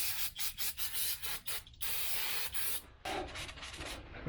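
Brake cleaner hisses from an aerosol can onto the rear brake parts of a 2014–2019 Toyota Corolla, in short bursts and then longer sustained sprays, close and loud with no talk.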